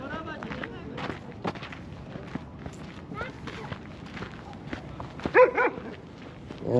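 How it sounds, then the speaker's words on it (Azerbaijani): A deep-voiced dog barks a few scattered times at a distance in a residential neighbourhood in Karabakh, mixed with footsteps and background voices of people talking nearby. "Səsi qalın it oxşuyur"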